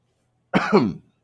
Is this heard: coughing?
yes